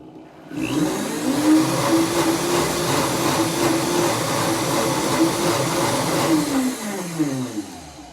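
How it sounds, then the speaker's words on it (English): A high-speed blender mixes pumpkin spice latte ingredients, starting abruptly into a loud, steady whirring roar with a faint pitch wobble that holds for several seconds, then winds down and stops, with no voices. "Secure the lid to your high-speed blender firmly, and then blend until the ingredients are just combined."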